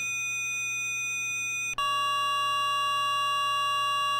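Flight of Harmony IMP Module synth produces a steady, buzzy tone rich in harmonics, which briefly drops out and then resumes with a changed, lower-shifted harmonic pattern, loud and alone.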